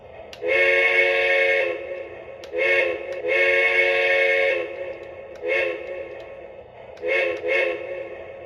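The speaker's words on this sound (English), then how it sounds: "Now let's check out the sounds, starting with the whistle." A Lionel LionChief Walt Disney World 50th Anniversary Express toy train whistle blows close by in a pattern of long and short blasts, several toots in a row with pauses, no voices.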